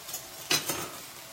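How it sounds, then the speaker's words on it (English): Beef and broccoli stir-fry gets stirred in a hot pan, one or two short scraping swishes over a faint sizzle, close by and brief with no talking. "I'm going to stir this into the pan."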